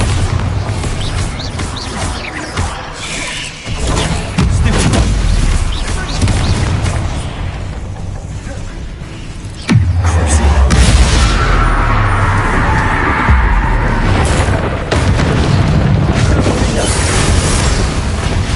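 The Bombarda explosion spell in the video game Hogwarts Legacy, setting off a heavy boom with a sharp onset partway through and a roaring rumble that carries on under game noise and someone talking throughout.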